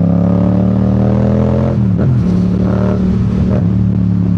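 A loud MT-07 motorcycle CP2 engine without a muffler running hard, with a blip in pitch midway through as the throttle is worked. The rough rumble continues without pause.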